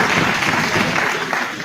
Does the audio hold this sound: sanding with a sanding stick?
no